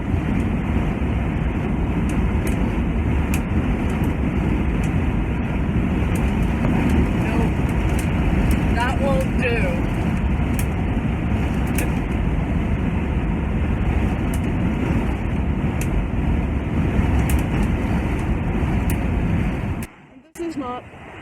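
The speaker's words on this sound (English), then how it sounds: "when I'm driving 70 miles an hour, it flings the bunting flags around, the triangles around, and the little beads hit the fiberglass interior of my van" Loose beads and bunting flags rattle against the fiberglass interior of a van cruising at 70 mph, a dense roar of road and wind noise with scattered sharp ticks and taps, ending in a brief dropout.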